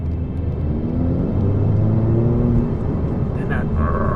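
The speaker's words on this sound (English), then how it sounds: "you realise there's a little burble behind your head" A 2018 Hyundai i30N hot hatch with 271 brake horsepower rumbles low and steady, its exhaust burbling behind the cabin, with a tonal drone as revs shift and someone talking over it.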